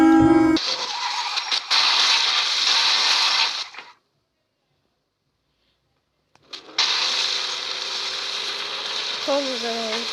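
A motor runs with a loud, steady mechanical whir that has a ratcheting, geared texture. It cuts out completely for a few seconds in the middle, then starts up again.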